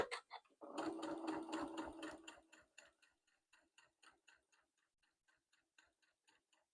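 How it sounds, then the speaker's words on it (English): A sewing machine runs a long seam on a shirt, a close, quick stitching rattle that starts loud and speeds along. It then slows into separate ticking clicks that fade out, with no voices. "This is a long line of stitching."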